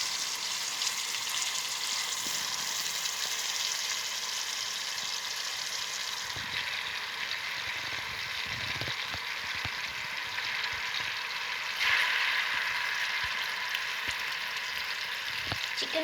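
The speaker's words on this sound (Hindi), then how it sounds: "मैं चिकन को जो है वो इसमें डाल रही हूँ फ्राई करने के लिए" Chicken fries in a pan for chicken dum biryani, with a continuous dense sizzle that shifts slightly in tone as pieces are added and moved, plus occasional soft clunks.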